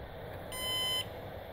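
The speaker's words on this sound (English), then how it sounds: "And there's the beep." A Synology DiskStation DS1815+ NAS, powered by a PC power supply, gives a single steady startup beep lasting about half a second, sounding clearly over a constant low hum of drives and fans.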